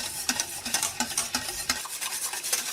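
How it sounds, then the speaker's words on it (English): A whisk beats rhythmically through a panna cotta mixture of mascarpone and cream as gelatin is worked in, giving quick repeated scraping strokes against the bowl, steady and close, with no talking. "we just get started whisking and then slowly pour the gelatin in"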